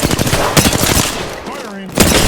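Dense automatic gunfire in the Apex Legends video game, loud rapid bursts with a brief pause near the end before firing resumes, with a voice briefly heard among the shots.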